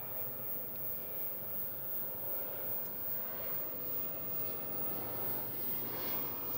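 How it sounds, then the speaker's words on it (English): An Embraer 175 LR airliner approaches DFW Airport, a faint distant steady jet engine rumble and hiss with gentle slow swells in level, no voices over it. "An Embraer 175 LR, which is about to come in."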